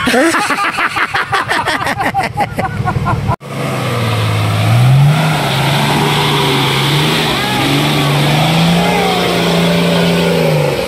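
A Ranger off-road vehicle on a rough wild trail at Alfonso Trail in Cavinti, Laguna, its engine roaring steadily after a rapid rattling opening, loud and close, with the pitch rising and falling as it climbs and revs.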